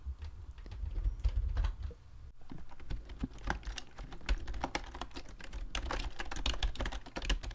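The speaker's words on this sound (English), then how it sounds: "if you are looking for a typewriter style Bluetooth keyboard, YUNZII is the way to go" Typing on a YUNZII Actto retro typewriter-style Bluetooth keyboard, model B303, with round keys that have a slightly cushioned press. Steady, close clicky keystrokes run throughout in a brisk irregular rhythm, with a brief pause near the middle and no speech.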